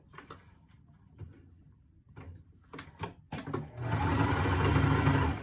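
A sewing machine backstitches on a fabric pouch. A few short taps and clicks come first, then a close, steady run of stitching that holds to the end. No one speaks.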